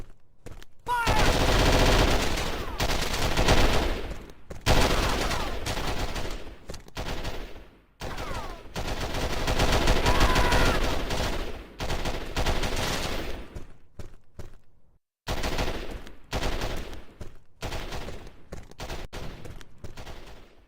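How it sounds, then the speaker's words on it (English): Bursts of automatic gunfire and heavy suppressing fire in the Call of Duty video game, loud, dense rattling volleys that stop and restart several times, broken by short silent gaps. "We'll lay down suppression fire, but don't stick your head out."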